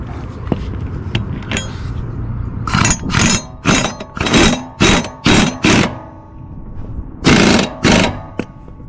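Up close, an impact wrench tightens the blade bolts on a Dixie Chopper mower in a series of loud, short rattling bursts separated by brief pauses, over some lighter clanks.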